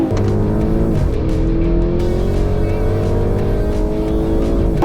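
Loud, close engine roar of a Porsche Cayenne Turbo GT SUV accelerating in a drag race, climbing through several gear shifts with a steady heavy low rumble throughout.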